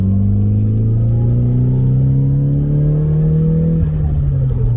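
A Nissan S14 with an ARC titanium exhaust pulls hard through second gear, its deep engine note rising steadily in pitch, loud and close from inside the cabin, then easing off near the end.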